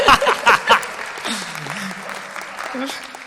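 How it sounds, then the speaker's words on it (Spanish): Audience applause at a live science show: a short burst of clapping at the start that quickly fades under a voice speaking. "aplauso para él"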